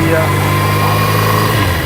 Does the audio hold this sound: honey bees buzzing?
no